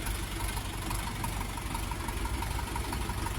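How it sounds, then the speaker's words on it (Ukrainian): A Dongfeng 404 tractor engine idles close by with a steady, even chugging rumble that stays loud and unchanged throughout. "Ось кемовський двигун, такий тракторець."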